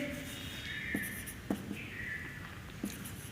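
A pen scratches faintly across paper as notes are written by hand, with soft strokes and a few light taps in a quiet room.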